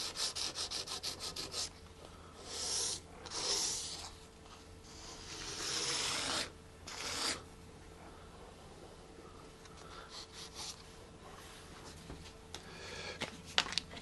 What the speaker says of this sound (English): I run a piece of sandpaper across.